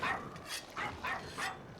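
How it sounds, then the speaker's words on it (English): A dog companion barks in the Monster Hunter Rise video game, giving four or five quick, bright yips and barks at a steady rhythm, fairly faint in the game mix. "Come on, don't just bark, Missy"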